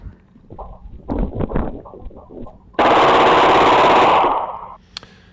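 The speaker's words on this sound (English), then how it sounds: "That was fully automatic gunfire." A long, continuous burst of fully automatic gunfire rips out for about two seconds after some scattered thumps and noises, followed by a single sharp crack.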